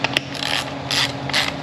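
Ratcheting wrench tightening bolts on a cast iron Powerglide transmission case, several bursts of quick metallic pawl clicks in short runs with brief pauses, close and fairly loud.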